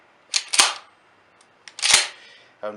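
A Remington 870 Tactical shotgun being cycled and dry fired, close up: quick metallic clacks of the action followed by two sharp snapping clicks, with a faint trailing hum at the end.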